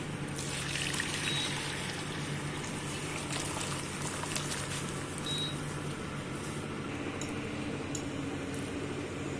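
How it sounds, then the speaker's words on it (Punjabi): Soft boiled potatoes are lifted out of their pot of water for chilli potato, giving a steady wet trickling and sloshing with faint clinks throughout, close and fairly quiet, and no one speaks. "ਆਲੂਆਂ ਨੂੰ ਹੁਣ ਪਾਣੀ ਵਿੱਚੋਂ ਕੱਢ ਲਾਂਗੇ"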